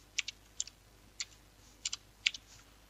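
Typing on a computer keyboard: a handful of quiet, close key clicks come in short clusters with gaps between them, in an otherwise hushed room.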